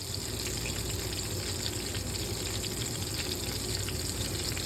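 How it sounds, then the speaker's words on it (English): Steady, dense sizzling crackles on without pause as spaghetti fries in a hot saucepan, fairly close and even in level. "You hear that sizzle? I love this sizzle."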